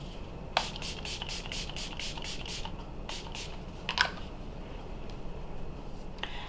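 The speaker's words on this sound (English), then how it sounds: "Next, I'm gonna go in with Milani Make It Last setting spray" Milani Make It Last setting spray misted in a string of about nine quick, close bursts in a row, followed after a pause by a few more spaced sprays, with faint handling noises between them.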